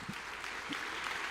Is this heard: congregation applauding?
yes